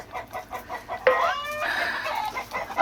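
Chickens cluck right beside a chicken coop at a crowded campsite, with a rooster-like call breaking out loudly over the steady hen chatter.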